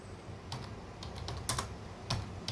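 Fingers tap quickly on a computer keyboard in short bursts of soft, close clicks at a low level, with no talking.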